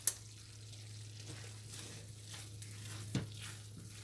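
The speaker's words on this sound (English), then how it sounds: "So we're gonna let this simmer right here for about another 5 minutes." Potato casserole mixture simmering in a pan, a faint soft sizzle over a steady low hum, with a couple of light clicks of a utensil against the pan.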